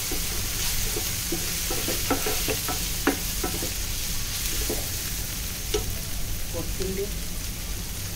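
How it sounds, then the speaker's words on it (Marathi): Tomatoes with turmeric and Malvani masala sauté in a pan for prawn rassa, a continuous close hiss with light stirring taps and crackles scattered across it, moderately loud. "टोमॅटो मऊ होईपर्यंत आपल्याला परतून घ्यायचा आहे।"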